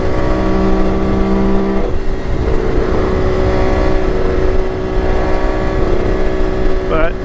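Kawasaki KH500 H1 two-stroke triple motorcycle engine droning steadily in fifth gear under light throttle, a loud continuous buzz with a slight shift in pitch partway through.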